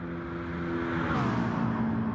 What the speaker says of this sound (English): Just listen to the sound of these cars screaming down.